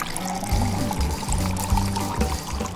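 Water pours into flour for homemade pasta dough, a continuous gurgling stream with rhythmic glugging pulses, close and moderately loud throughout.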